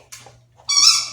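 Two high, squeaky whimpers from a young dog, a short one followed by a longer, louder drawn-out squeal, over a faint low hum.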